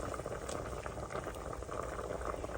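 Chicken and rattan shoot curry soup boiling in a pot over a charcoal fire, a dense steady bubbling and burbling heard up close with no speech.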